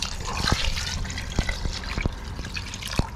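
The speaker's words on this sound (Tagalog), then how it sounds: "tapos dadagdagan na natin ng another na tubig" Water is poured into a simmering pot of chicken arroz caldo, a steady splashing fill with a few sharp drips and clinks, heard close without talk.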